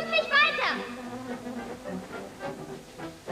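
Cartoon bees buzzing around a Smurf beehive, a busy insect drone with wavering tones under and between animated character voices speaking German.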